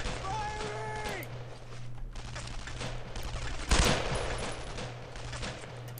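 Rapid bursts of gunfire in the World War II shooter game Brothers in Arms: Road to Hill 30, continuous crackling fire with a louder, heavier volley near the middle and a low engine-like rumble underneath.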